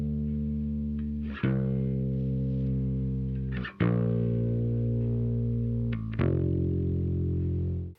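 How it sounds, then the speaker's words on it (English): Bass guitar played through a high-pass (low-cut) filter on the high channel of a split bass rig, three sustained notes struck about every two seconds, with thinned lows and a bright, slightly distorted tone. "I'm gonna do a high pass filter or low cut filter on my bass high channel"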